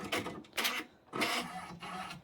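An embroidery machine trims its thread with a few short mechanical whirring bursts, close and moderately quiet, in an otherwise silent room.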